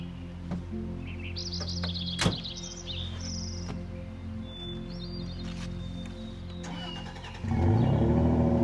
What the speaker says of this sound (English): we just packed up camp, fired up the truck, letting it warm up